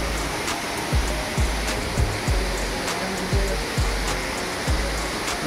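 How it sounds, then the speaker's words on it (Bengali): Rainbow waterfall near Sonada in the hills, a continuous broad rush of falling water heard close, with a few soft low thumps repeating underneath. "এই যে ঝর্ণার জল বয়ে চলেছে"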